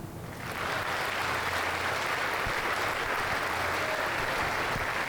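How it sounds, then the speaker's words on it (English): High school senior night awards audience applauding student Emma, a dense, even wash of clapping swelling in after a quiet start and holding steady to the end. "Please join me in applauding Emma."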